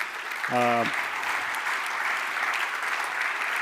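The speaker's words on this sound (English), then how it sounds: "a very big applause for all of the guys who competed tonight first" An audience at a startup competition night applauds the competitors with sustained, even clapping, and a short voice sounds briefly near the start.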